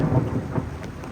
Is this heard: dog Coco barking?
no